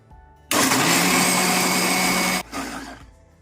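A mixer grinder blends soaked rice with water, switching on abruptly into a loud, steady high-pitched whir, running for about two seconds, then cutting out and briefly spinning down.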